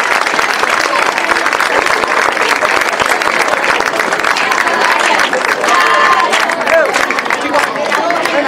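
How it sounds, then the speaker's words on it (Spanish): An audience at a year-end party claps loudly and continuously, a dense close wash of applause that holds steady throughout, with faint crowd murmur beneath. "Ahora sí, un fuerte aplauso."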